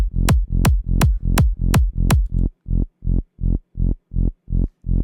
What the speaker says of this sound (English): those kind of like squelchy, wumpy basses that you hear in hard trance